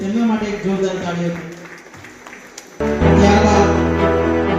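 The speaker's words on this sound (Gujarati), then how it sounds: "તેમના માટે એક જોરદાર તાળીઓ" Loud applause for a student at a ceremony during a social unity gathering in Viramgam. A voice speaks at first, then a sudden, full wave of clapping with music underneath breaks in and carries on strongly.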